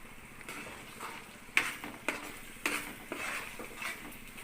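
A spoon stirs chili powder into fish curry masala in a pan for Andhra-style fish stew: quiet scraping, with a few sharp metallic taps against the pot at irregular intervals over a soft background sizzle.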